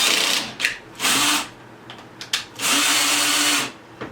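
A power drill drives screws while a Mainstays Alexandra three-piece patio set is assembled. Several short whirring bursts are followed by two longer, loud, close runs with brief pauses between.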